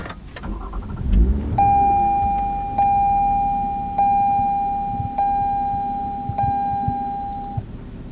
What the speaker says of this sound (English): this is not your typical Camry as soon as you hear that catback exhaust